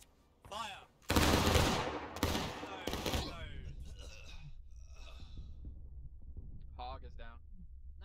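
Musket volley from a company of soldiers in the Civil War game War of Rights: a loud, dense burst of many shots fired together, followed by scattered distant gunfire, with commands shouted around it.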